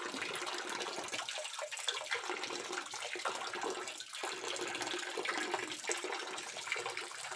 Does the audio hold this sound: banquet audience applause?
no